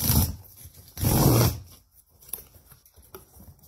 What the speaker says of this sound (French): j'ai reçu un colis que je vais ouvrir avec vous